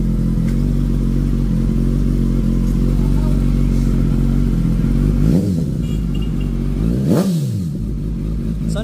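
A Suzuki GSX 1000 motorcycle with a carbon exhaust pipe idles loudly and steadily close by, then is revved in two sharp, rising blips near the end.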